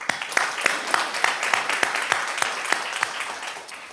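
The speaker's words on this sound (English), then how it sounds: "please, another round of applause for our awardees" An audience at a school district governing board meeting applauds awardees, with a steady run of sharp, close claps lasting about four seconds.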